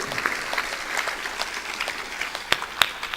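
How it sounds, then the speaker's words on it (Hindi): An audience at a Hindi religious discourse claps to honour a man who has pledged his body for donation: a steady patter of applause with a few sharper, louder claps standing out near the end. "इस शरीर दानी भक्त खड़ा है, ताली बजाकर अभिनंदन"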